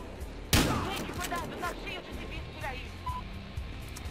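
Gunfire in Battlefield Hardline, one sharp loud shot followed by scattered distant shots and game noise, with someone talking throughout.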